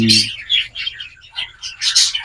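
Parakeet chicks give bursts of high, thin chirps close by, with a brief low call at the start, the cheeps coming in quick overlapping clusters from a nest of young birds being readied for hand feeding.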